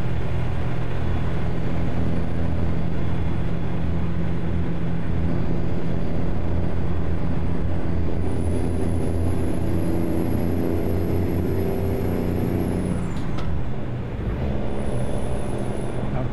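A heavy truck engine drones low and steady as it accelerates in American Truck Simulator, driving near San Francisco's Golden Gate Bridge. A thin high whine rises over the rumble later, then the sound dips briefly before resuming.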